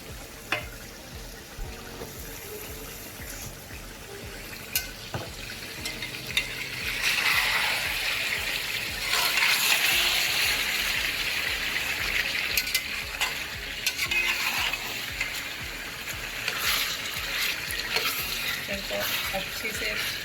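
Chicken biryani ingredients browning in a pan, a continuous sizzle that swells louder midway as they are stirred, with occasional clicks and scrapes of the utensil and no speech.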